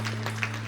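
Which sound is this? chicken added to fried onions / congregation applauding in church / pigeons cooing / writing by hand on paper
congregation applauding in church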